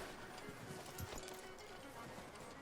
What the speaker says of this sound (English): Amarrar o cavalo aqui.